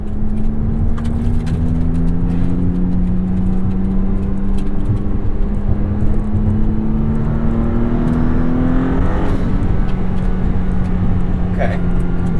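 A 2022 Maserati MC20 sports car engine runs steadily with a low droning tone that slowly rises in pitch, as if accelerating, with turbo boost noise and continuous loud road and cabin rumble throughout.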